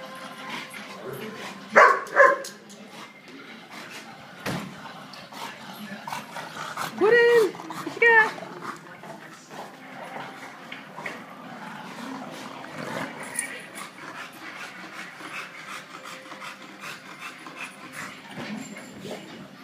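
A dog makes repeated whimpers, yips and panting noises in short bursts, close by and fairly loud, with people talking quietly in between.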